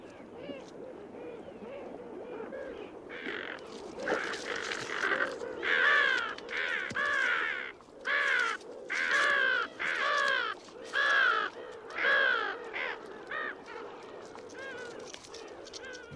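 Birds in a mountain setting give a series of harsh, rasping begging calls, likely from a female and her chick, repeated in bursts that grow louder and more regular, close and clear over a quiet background.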